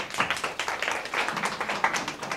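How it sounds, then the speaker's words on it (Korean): A forum audience claps in a room, a short burst of fairly close, uneven hand claps with no talking over it. "큰 박수 부탁드리겠습니다."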